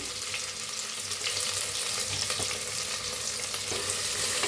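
Chopped onion fries with roasted whole spices in a pan, giving a continuous dense sizzle with faint stirring underneath and no talking.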